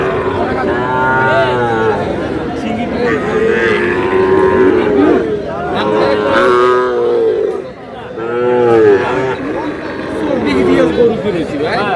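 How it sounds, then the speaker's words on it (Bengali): A Sahiwal breed bull at a crowded cattle market in Munshiganj, lowing in several long, loud moos close by, over a constant background of crowd chatter and voices. "শাহিওয়ালার ষাঁড়"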